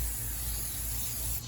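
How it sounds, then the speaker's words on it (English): Cooking oil sprayed in one short, steady hiss onto a well-used toaster oven baking pan, close and continuous for about a second before cutting off. "spray oil, just a shot."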